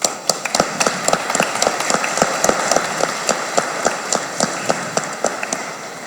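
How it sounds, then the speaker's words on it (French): Sparse, distinct hand claps from a church congregation at a Sainte Anne feast-day Mass, a fairly thin, uneven patter of individual claps that continues steadily throughout. "Moi, je vous applaudis."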